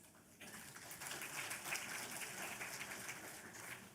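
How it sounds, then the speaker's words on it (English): An audience claps for professors being introduced at a university orientation, a steady broad wash of applause that swells just after the start and holds through the clip, somewhat distant in a large hall. "Clapping, please."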